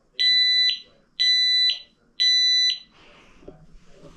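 A household smoke detector being tested sounds three loud, piercing beeps of about half a second each, evenly spaced, followed by faint handling noise and room sounds with no talk.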